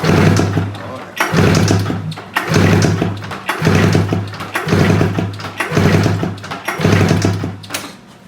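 A damaged Pro X2 engine with zero compression on one cylinder, loud and close, cranking in a series of six or seven rhythmic bursts that surge and drop, each about a second long, with a low steady hum underneath.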